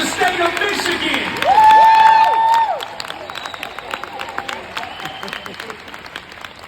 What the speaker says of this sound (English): Come on, clap it up if you know that this is going to be the best district in the state of Michigan.